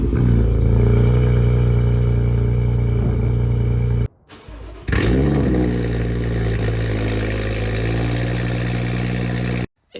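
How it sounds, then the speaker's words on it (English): A BMW N55 engine and an S55 engine, each revving in turn, loud and close with a strong low rumble and rising revs, split by a brief near-silent gap between the two clips; no talk. "let's not forget the sound of the N55 versus the S55. I'll put 2 clips, and you can decide which sounds better."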